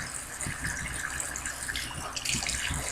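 Water runs and splashes steadily close by, like a tap or sink flowing, as hands are wetted to dampen relaxed hair before a protein treatment.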